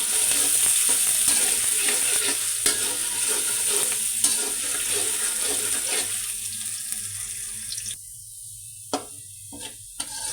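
Chopped onion and cinnamon fry in hot soybean oil, a loud continuous sizzle with scraping stir strokes that fades to quieter crackles near the end.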